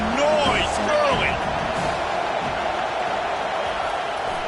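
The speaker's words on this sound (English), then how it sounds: "This crowd bringing the energy and noise early." Football stadium crowd at an MSU versus USC game roars in a steady, loud wash of cheering and noise, with a few whistles and shouts rising briefly near the start.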